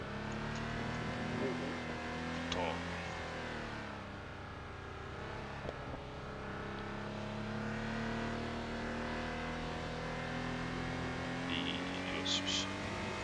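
A Suzuki Alto engine hums and revs in Assetto Corsa as the car climbs and descends a hairpin-filled mountain pass at Okutama, its tone rising and falling steadily with gear changes while someone talks over it.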